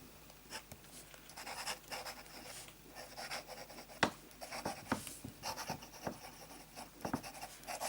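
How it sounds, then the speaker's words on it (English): Fine-tipped pen writing on copier paper with De Atramentis Document Blue ink, close and quiet, with soft scratchy strokes and brief taps as the nib lifts and lands, running steadily without talk. "Let's start with some fine writing."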